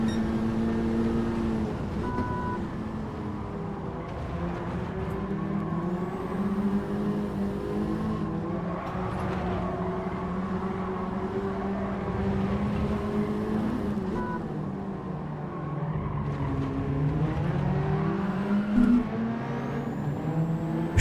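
Race car engine in a Gran Turismo-style Gr4 racing game, droning and revving steadily throughout with pitch rising and falling through gear changes, loud and continuous with no talk.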